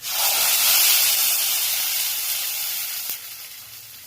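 A loud, steady sizzle and hiss as a ground paste is poured into a hot pan with curry leaves, gradually easing off.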